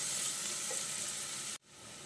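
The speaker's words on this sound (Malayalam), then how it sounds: "ഇതൊന്ന് വഴറ്റിയെടുക്കാം." Chopped onion sautés in a hot pan for samosa filling, giving a steady, close sizzle that stops abruptly near the end.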